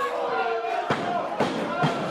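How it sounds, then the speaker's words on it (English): A wrestling crowd jeers at a wrestler, a dense steady roar of many voices with a few sharp thuds from the ring standing out. "And the crowd is giving it back to him"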